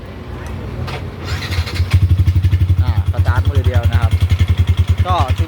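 A Yamaha NMAX scooter engine, repaired for a no-start fault with leaking valves, starts up and settles into a fast, steady putter, close and loud, with a few light clicks and faint voices at the start.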